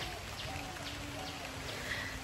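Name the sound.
rain falling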